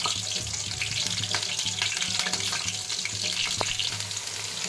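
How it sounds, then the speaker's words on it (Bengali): Potato pieces frying in oil in a wok, a continuous crackling sizzle with small pops and scrapes throughout, close and steady with no voices. "কড়াই তেল দিয়ে দিয়েছি আর আলুগুলোকে একটা একটা করে দিয়ে সব ভেজে নিই।"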